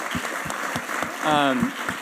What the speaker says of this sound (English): if you'd join me in applauding all of our panelists